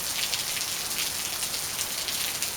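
Rain falling on a back patio, a dense, bright pattering hiss of many drops that holds steady and fairly loud from start to finish.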